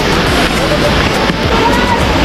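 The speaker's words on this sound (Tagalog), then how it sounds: "May batis din dito mga kasubok oh." Steady rushing of a stream at a forest resort in Nagcarlan, a constant loud broadband wash of flowing water heard up close with no clear breaks.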